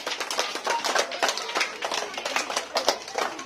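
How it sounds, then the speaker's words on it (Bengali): Audience clapping loudly at a school magic show, a fast, dense patter of many hands that holds steady throughout, with no voices rising above it. "তবু একবার জোরে হাততালি দিতে হবে"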